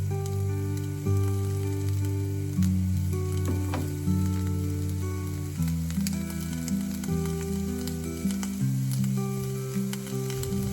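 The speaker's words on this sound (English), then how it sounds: "And then those went into the cast iron with some butter." Chopped onions sizzle in butter in a cast iron pan, a steady close crackle that plays under sustained music throughout.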